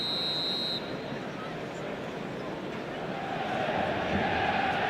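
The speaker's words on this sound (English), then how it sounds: "There's the whistle." A referee's whistle in an eFootball 2026 match gives one sharp, high blast of just under a second at the start, then gives way to a steady roar of stadium crowd noise.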